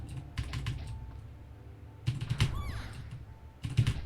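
Several quick bursts of keyboard key presses in clusters, separated by pauses, with a chirping tone in the background.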